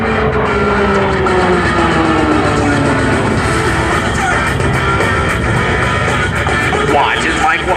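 A USAF T-6 Texan II turboprop trainer flies the vertical 8 loop manoeuvre at the 2005 Andrews AFB airshow. A loud, steady engine roar fills the whole stretch, with a tone that slowly slides downward as the aircraft climbs and passes.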